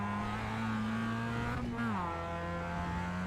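Mazda MX5 race car in iRacing at Lime Rock Park, engine droning steadily then dropping pitch as it downshifts under braking, a brief blip of revs mid-clip before settling into a lower steady tone, loud and close.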